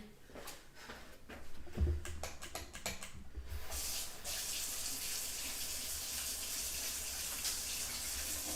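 Hands are washed under a running tap in a kitchen while baking: a few clicks and knocks, then a steady, close hiss of water pouring into the sink that continues to the end.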